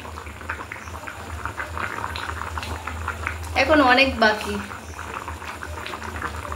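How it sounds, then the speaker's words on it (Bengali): Chicken boils in a pot, with a steady, close bubbling hiss running throughout. A voice speaks briefly over it midway. "তো এই যে আমাদের চিকেন ফুটছে"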